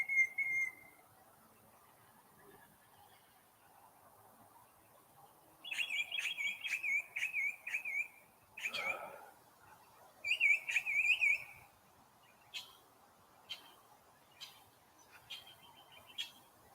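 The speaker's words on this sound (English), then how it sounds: "That's a different type of bird that I haven't heard before." Bird calling beside a river, a clear whistled trill repeated in bursts with sharp chirps, near and fairly loud over a quiet outdoor background with no talk.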